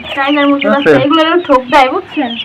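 Tiger chickens cluck and squawk close by in a short, busy burst of overlapping calls.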